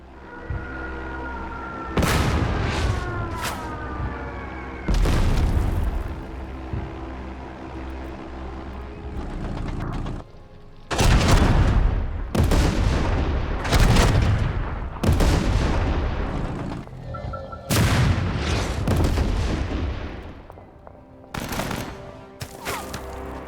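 Mortar fire in the World War II tank strategy game Total Tank Generals, Battle of Troina 1943: about eight sharp, loud blasts with a rumbling tail, spaced a few seconds apart, and no voices over them.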